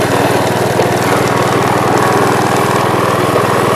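A commercial Gravely mower engine runs at a steady idle close by, with a loud, even low-pitched throb and constant pulsing rhythm alone for the whole stretch.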